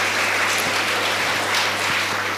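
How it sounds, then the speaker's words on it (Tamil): Steady, dense applause from an audience at a school debate event, welcoming a student speaker, sustained and fairly loud with no voices over it. "நல்ல கைத்தட்டுங்க, உங்க ஸ்கூல் பையன்."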